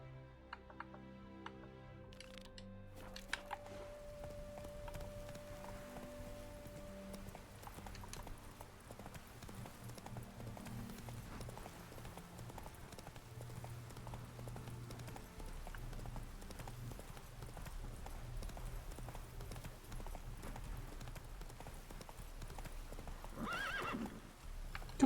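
Roach the horse gallops in The Witcher video game, a steady rhythmic clip-clop of hooves running throughout with a whinny near the end, set against game music and ambience.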